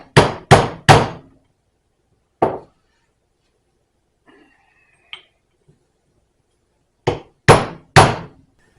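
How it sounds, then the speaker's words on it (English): Shaft seal being driven into a Lotus Esprit engine with a 31mm socket and hammer: three quick sharp hammer blows, a single strike, then after a quiet gap with faint clinks, three more blows, loud and close. "I use a big 31mm socket to put this in, and I overlap it on either side just a little bit"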